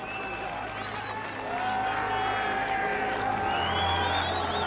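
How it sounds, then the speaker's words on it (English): A grandstand crowd at the Open Championship, Royal Liverpool, cheers and applauds, a broad roar with whistles and whoops rising over a steady rumble, growing louder midway. "the crowd made such a noise in the grandstand"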